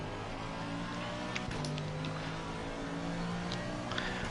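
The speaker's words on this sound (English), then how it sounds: "Faster car coming behind you." Race car engine drone from a racing video game, a steady revving hum with pitch shifts as a faster car closes in from behind, continuous and moderately loud with no talk.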